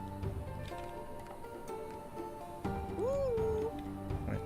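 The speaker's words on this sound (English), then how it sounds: "Got a cat." A cat meows once in the video game Hammer & Hero, a single clear drawn-out call near the end, heard over game music with ticking interface sounds and no talking.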